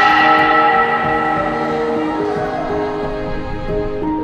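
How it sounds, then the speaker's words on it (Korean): A large bell cast from melted barbed wire taken down from the DMZ rings out in one sustained, loud strike, its rich overtones humming and slowly fading. "감시탑들이 서 있던 산봉우리들에서 종소리는 남북의 경계를 넘어 멀리까지 퍼져나갈 것이다"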